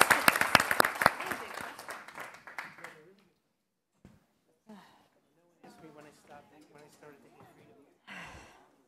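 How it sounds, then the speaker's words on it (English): An audience bursts into loud applause that fades out over about three seconds, followed by scattered murmurs and a few short voices. "let's give a round of applause to the commentators."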